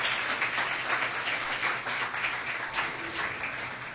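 Applause for an Irish fiddler at an Irish music awards, continuous dense clapping from an audience at moderate level, holding steady for four seconds.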